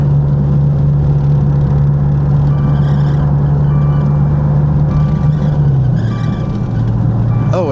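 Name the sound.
submerged Maserati car accelerating on the road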